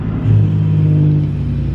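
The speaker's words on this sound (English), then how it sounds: "Let's do a little downshift here." A truck engine brakes during a manual downshift, a loud, close, steady low rumble with a droning tone that holds for a moment.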